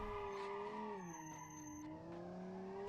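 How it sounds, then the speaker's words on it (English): Failing, worn-out brakes on a sport luxury car in BeamNG squeal in a loud, sustained tonal whine that bends in pitch, layered with skidding tires and engine noise, continuous with no talking. "Gosh, the sound of the dying brakes."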